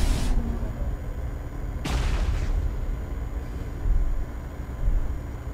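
Video game gunfire in Hawken arrives as a few separate heavy booming shots, each with a sharp crack and rumbling tail, spaced a couple of seconds apart against a low background rumble.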